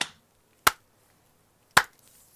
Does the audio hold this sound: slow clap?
yes